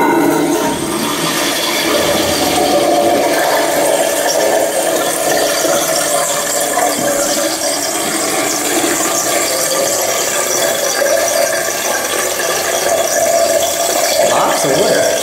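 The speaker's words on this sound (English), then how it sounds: "Lots of water. Really long flush." A Peerless urinal in a cinema restroom flushes with a long, loud, steady rush of water and hiss that runs unbroken for many seconds in an echoing room.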